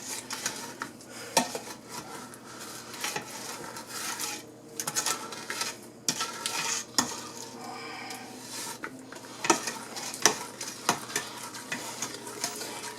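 Pear pie filling being stirred in a bowl, close and moderately quiet, with repeated scraping and clinking of a utensil against the dish in an uneven rhythm.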